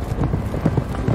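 A horse runs at speed, its hooves drumming in a fast, steady clip-clop rhythm, close and fairly loud throughout the short stretch.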